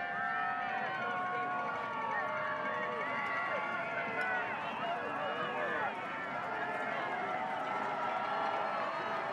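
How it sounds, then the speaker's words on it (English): A high school football crowd keeps up a dense, continuous roar of voices and shouting from the stands, with scattered clanks that fit ringing cowbells mixed into the noise. "The Hale and Hardy fans cheering on their team, working their cowbells here on third down and seven."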